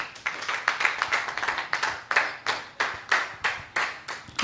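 A church congregation claps in rhythm during a worship service, a steady run of sharp, fairly loud claps repeating roughly every half second with no talk over them.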